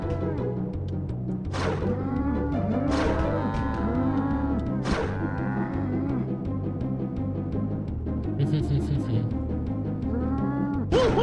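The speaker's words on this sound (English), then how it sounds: "Be very careful with the cows." Cows in the South Park video game letting out repeated deep, drawn-out moos over a looping game soundtrack, with bright effect sounds scattered through.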